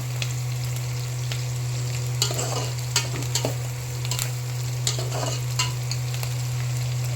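Onions frying in a pan for a fish curry, a steady close sizzle with a few scattered stirring clicks, no voices.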